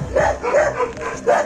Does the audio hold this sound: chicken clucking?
no